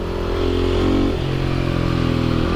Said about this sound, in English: This bike has one of the best sounding exhausts, I think, you could possibly have.